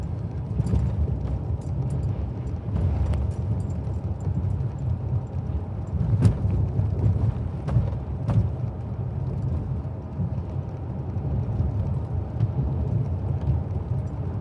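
A V12 Toyota Century rolls down a very bumpy road, heard from inside as a low steady rumble with scattered thumps and knocks from the rough surface, no speech.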